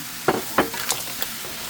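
Mussels go into a hot, sizzling pan for curry, with a few sharp clatters and scrapes over a continuous frying hiss, close and fairly loud.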